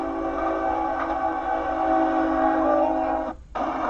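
A train sounds a long, loud, sustained horn while approaching a crossing where a truck hauling a wind turbine blade sits on the tracks. The horn holds steadily, then cuts off abruptly near the end.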